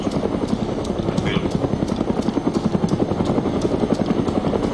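A helicopter flies nearby with fast, steady rotor thumps pulsing throughout, loud and continuous, in a military setting with a Black Hawk and Mi-17; someone speaks briefly over the rotor noise.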